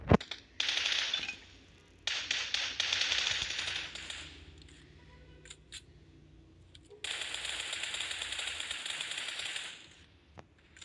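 Gunfire in the mobile battle royale game PUBG Mobile: rapid automatic bursts of shots in dense rattling runs, separated by quieter gaps, close and loud, with no voices.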